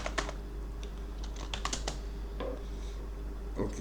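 Typing on a computer keyboard, with scattered clusters of light key clicks and taps, close and fairly quiet over a steady low hum.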